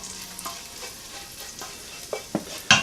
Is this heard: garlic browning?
yes